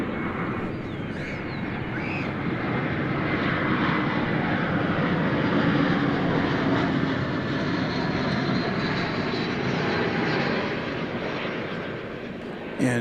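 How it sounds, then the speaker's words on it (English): An American Airlines jet arriving from Los Angeles at DFW Airport roars steadily overhead, a broad sustained engine rumble that swells slightly in the middle and holds throughout. "And you just heard American Flight 1372 arriving from Los Angeles."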